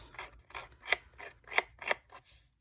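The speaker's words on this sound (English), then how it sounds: "I just go carefully with my closed scissors around the edges" Closed scissors scrape along paper edges in about seven short, rhythmic strokes, close up and crisp, with no talking.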